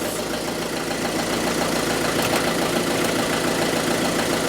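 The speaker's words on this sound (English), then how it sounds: "I can hear the fuel pump doing things" An old barn-find car's fuel pump runs with a constant mechanical whir and hum, close and loud, no voices.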